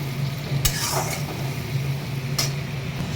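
Mustard paste made from ground mustard soaked in salted hot water, sautéed in a pan, giving a soft continuous sizzle with a few sharp metallic spatula scrapes against the pan, close and without speech.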